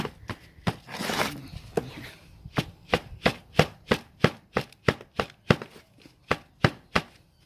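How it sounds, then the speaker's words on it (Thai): Potting soil being mixed with shell lime by hand in a basin, heard as a steady run of crisp, close scraping and patting strokes at a regular, fairly quick rhythm. "ใส่ไปหนึ่งหยิบแล้วก็คลุกคลุกให้เข้ากันนะคะ"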